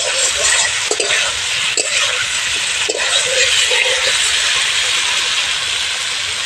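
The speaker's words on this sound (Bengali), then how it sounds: "আলু দিয়ে ভালো করে নেড়ে নেব" Potatoes are stirred into a fried spice paste for an egg and potato curry, making a loud continuous sizzling hiss with a few crisp scraping clicks from the spoon, close up and without speech.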